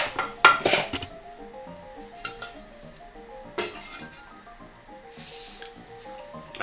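A lid clatters onto a casserole pot of garlic rabbit, with metallic clinks and scrapes at the start and a couple more knocks later over soft background music.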